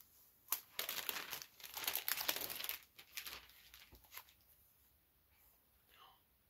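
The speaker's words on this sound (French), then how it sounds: "je suis là avec mes ciseaux, je vais tout défaire" Paper crinkles and tears loudly in bursts as a package is unwrapped, then the rustling fades to soft, quiet handling.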